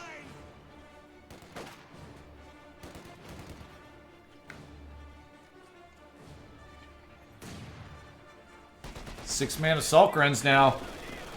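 Bursts of MG42 machine gun fire from Company of Heroes crackle sporadically in the background, with a louder cluster of gunfire near the end, all beneath an excited commentator's voice.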